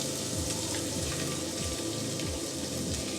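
Chopped fresh garden onion hitting a hot pot for a one-pot kitcheri, producing a wet, bubbling sizzle with low rumbling and a few scraping stirs, steady and close with no talk.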